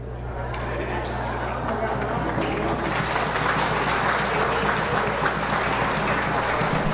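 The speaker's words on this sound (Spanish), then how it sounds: "Esperen, no aplaudan." Church congregation applauding during a Sunday homily, a steady dense clapping that fills the whole stretch at even loudness, with a low hum underneath.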